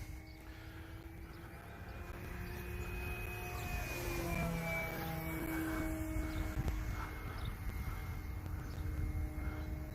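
An FMS Zero RC airplane flies at a little under half throttle, its motor a steady droning whine with a gently shifting pitch as it passes, set against constant outdoor background noise.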